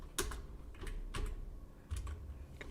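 Computer keyboard keys pressed for copy and paste commands, a few sharp, close clicks spaced out over a quiet room.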